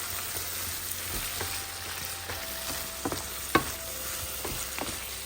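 Mutton pieces and tomatoes stirred in hot oil for a dry mutton ghee roast, a steady close sizzle broken by scraping spoon strokes and a few sharper clinks against the pan.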